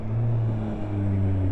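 A 2023 Yamaha XSR 900 motorcycle engine under throttle, a loud, close, steady droning rev with strong low tones and no talk.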